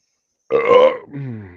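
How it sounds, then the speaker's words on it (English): A single loud, close burp from a person, starting abruptly, swelling in a rough voiced gurgle, then trailing off into a lower croaking tail. "I'm just burping over here"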